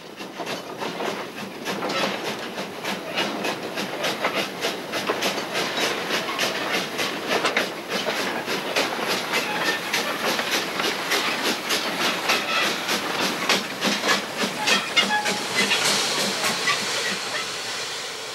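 A steam locomotive works along a Javanese narrow gauge railway in 1994, its rapid rhythmic exhaust chuffs and hissing steam growing louder and more pronounced over a continuous rolling rumble.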